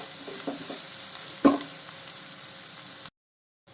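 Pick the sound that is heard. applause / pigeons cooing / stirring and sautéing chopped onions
stirring and sautéing chopped onions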